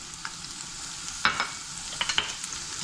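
Mushrooms, green peppers and onions fry in a hot oiled pan, giving a soft steady sizzle with a few scraping knocks as a spatula stirs them.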